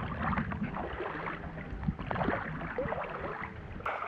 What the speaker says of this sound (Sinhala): වැලිකොඩ දාන බෝට්ටුවක්